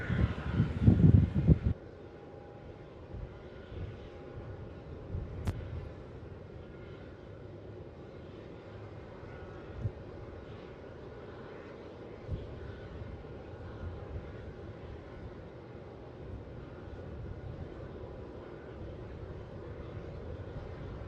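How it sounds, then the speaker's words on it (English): Distant jet engine roar from a Qantas Airbus A330 taking off from runway 27 at Melbourne Airport, a steady low rumble that holds for about twenty seconds after an early burst of wind buffeting on the microphone. "So we've got that Qantas A330 about to take off from runway 27."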